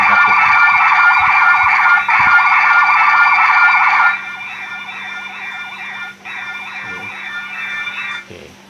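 A Commax intercom emergency alarm sounds a loud, rapid warbling electronic siren that drops to a softer level about halfway through and keeps cycling, with a steady low hum underneath.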